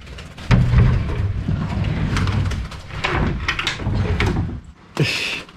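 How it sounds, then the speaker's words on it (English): Doors are opened one after another in a beach house in El Nido, Philippines, each giving a close, loud, rumbling slide and knock, ending in a sharp thud. "Open all the doors."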